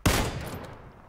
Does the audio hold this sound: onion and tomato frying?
no